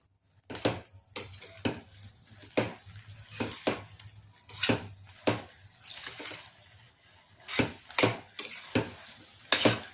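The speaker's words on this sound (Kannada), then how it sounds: "ಮಶ್ರೂಮ್ ಹಾಕಿ ಕ್ಲೀನಾಗಿ ಒಂದು ಸ್ವಲ್ಪ ಉರಿಬೇಕು ಇದರೊಳಗೆ ಉರಿಬೇಕು" Mushrooms sizzle in a hot pan for a hotel-style mushroom biryani, with steady frying hiss and repeated sharp scraping clatters of stirring throughout.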